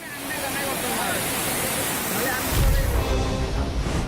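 Floodwater from rivers swollen by torrential rain in Assam rushes loudly and steadily, a broad roaring wash with a heavier low surge near the end.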